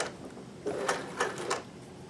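Sewing machine reverse stitching along a fabric hem, a soft mechanical whir with three or four brief clattering pulses, close and quiet, with no talk.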